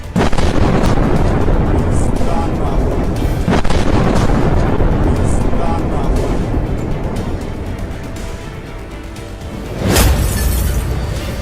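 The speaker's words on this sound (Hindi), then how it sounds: "बहुत तेज बमबारी आज रात कीव पर भारी।" Heavy bombing over Kyiv at night: several sharp blasts and cracks ring out over a rumbling background, with one louder boom near the end.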